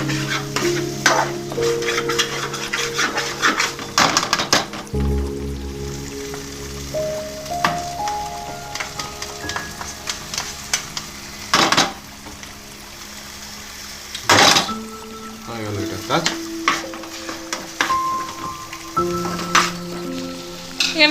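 Ginger-garlic paste frying with cumin and coriander powder in a pan, a steady close sizzle broken by repeated scraping stirs and clinks of a spoon, with intermittent louder hisses as the mixture is turned.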